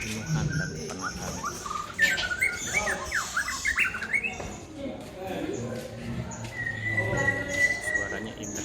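A white-rumped shama sings in the morning while being fed, bright varied whistles and chirps rising over quieter background noise, with some talking mixed in.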